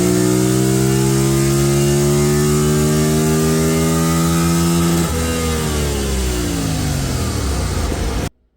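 A 2025 Yamaha MT-07 motorcycle engine with stock exhaust rumbles loudly up close, its revs rising steadily, then a quick shift and another climb before the sound cuts off abruptly.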